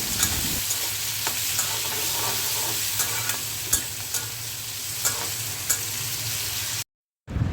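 Onions frying in oil left over from frying fish, a steady close sizzle with scattered scrapes and clicks of stirring, ending in a brief silence.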